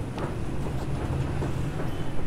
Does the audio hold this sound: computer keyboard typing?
no